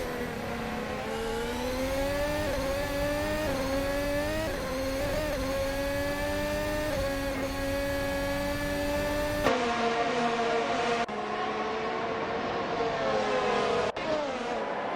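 Car engines in an AI-controlled F1 race, a sustained high whine climbing and dropping in pitch as cars accelerate and shift, with abrupt cuts in the sound.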